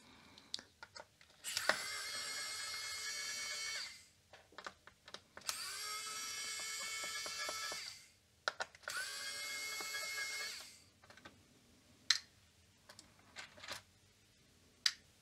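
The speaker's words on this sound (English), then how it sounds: "Luckily, I got this little screwdriver, electric." A small electric screwdriver whirs in three sustained bursts while removing the tiny screws from the back plate of a Commodore VIC-20 computer, with scattered clicks and clinks of screws and handling between runs.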